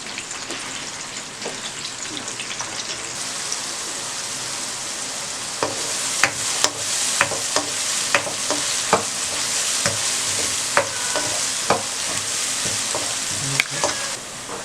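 Onions frying in oil in a pan, for a spinach and egg curry, give a constant dense sizzle with scattered stirring clicks and scrapes, near and steady.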